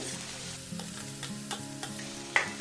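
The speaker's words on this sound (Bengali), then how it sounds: "এগুলো বেশি আমি ভাজবো না হালকা একটু ভেজে নেবো দু তিন মিনিট" Carrot, onion, green chilli and beetroot lightly frying in a pan for a Bengali veg cutlet, a steady soft sizzle with occasional scraping stir strokes, close and moderately quiet, no talking.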